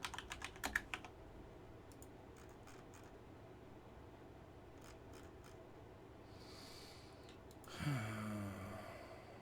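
Computer keyboard typing, a short burst of quick close key clicks at the start followed by a few scattered taps over quiet room hiss, then a breathy sigh near the end.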